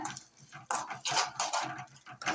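Goat brain fry with onion being chopped and stirred in a pan with a spatula, producing repeated scraping, tapping clatters in uneven bursts, close and moderately loud with no voices.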